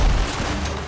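Rapid gunfire from a Fortnite match in Knockout Shuffle mode, a loud, dense volley of overlapping shots with heavy low-end booms packed into under a second, up close with no voices over it.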